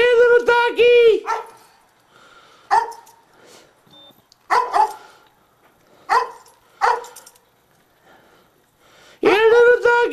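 A small dog barks in short, sharp bursts, about six barks separated by pauses, close and fairly loud.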